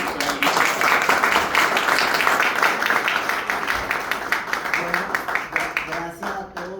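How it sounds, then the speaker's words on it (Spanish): Audience applause welcoming a speaker at a university doctoral program event, steady dense clapping filling the room and thinning out toward the end. "Un aplauso para él."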